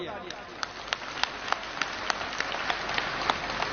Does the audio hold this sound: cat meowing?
no